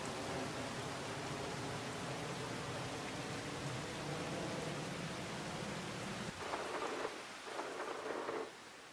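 Steady, dense rainfall in Farming Simulator 25 pours on without pause, with a shift near the end into a thinner patter broken by a few brighter bursts; no one speaks.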